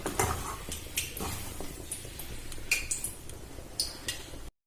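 Soybean chunks are worked by hand with water in a bowl: soft wet squelching and scattered light clinks, close and fairly quiet, with no talking.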